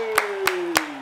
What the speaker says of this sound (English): Some big claps to start off.